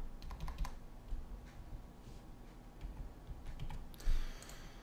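Quiet, scattered keyboard key clicks with short bursts and pauses, a faint low room hum underneath, and one slightly louder clack near the end.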